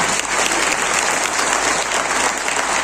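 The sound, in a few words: loud audience applause at training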